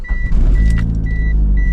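Turbocharged Mitsubishi Eclipse engine on a warm start, a loud close cranking burst catching into a steady idle rumble with a thin whine above it.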